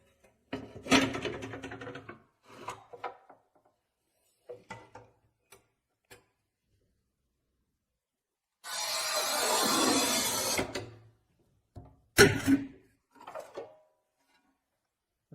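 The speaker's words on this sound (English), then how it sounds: "you can even cut a very hard porcelain tile just using your finger" A Montolit Masterpiuma P5 manual tile cutter scores a hard porcelain tile with a steady grinding rasp lasting about two seconds, then a sharp snap follows, surrounded by scattered mechanical clicks and handling knocks.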